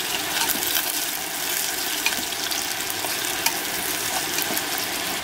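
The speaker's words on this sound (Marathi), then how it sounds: "आता त्याच्यामध्ये कांदा टाकून घेणार आहे मी चिरून घेतलेला." Chopped onion sizzling in a pan with roasted garlic, a steady close hiss of frying with occasional soft crackles and stirring, no voices.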